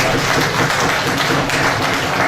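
An audience at a Pakistani poetry mushaira in Layyah claps steadily, a dense, even wash of applause that stays loud and continuous throughout, with no voices over it.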